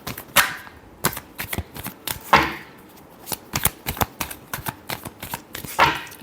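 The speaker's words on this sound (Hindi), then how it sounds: "Last shuffle." A deck of tarot cards is shuffled by hand in a series of sharp, crisp riffles and slaps, close and loud, coming in irregular bursts with short pauses between them.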